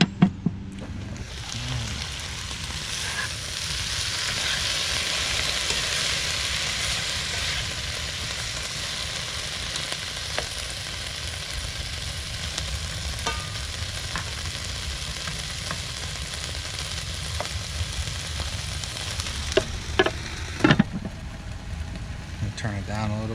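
Chicken and onion sizzle steadily in a pan in an RV kitchen, a loud continuous frying hiss holding for about twenty seconds before it drops off briefly near the end.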